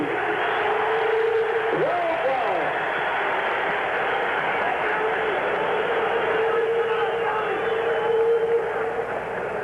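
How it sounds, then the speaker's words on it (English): Inside Madison Square Garden before the Ken Norton versus Jerry Quarry heavyweight bout, the arena crowd roars in a thin, old broadcast sound with mixed boos and cheers, continuous and loud throughout. "There were some mixed boos and cheers in there."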